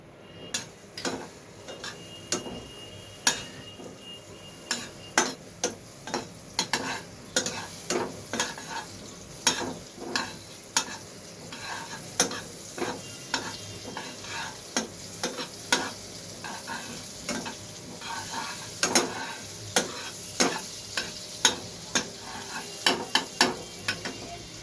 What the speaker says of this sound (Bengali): এবার এর মধ্যে বাটার দিয়ে দিলাম।